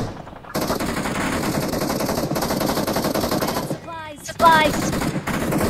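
Rapid automatic gunfire from a gun fight in the mobile battle royale game BGMI, dense bursts of shots running nearly continuously, loud and close, with brief pauses and a couple of quick metallic reload-like clicks near the end.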